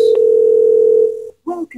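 Steady telephone dial tone held loud and alone for about a second before cutting off, followed by a short burst of tonal ringing or connection sounds while placing a call to another number.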